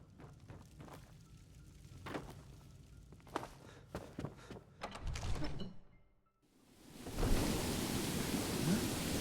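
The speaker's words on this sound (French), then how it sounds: "Et c'est qu'il pleut, ouais." Rain falls in the Skyrim video game, first as soft patter under scattered thuds and footsteps, then swelling after a brief lull into a steady, loud hiss of rainfall.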